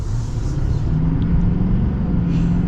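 A 2024 GMC Sierra HD AT4X AEV edition with a Duramax diesel engine accelerates, a loud, steady low rumble and engine drone with road noise, heard from inside the cab without talk.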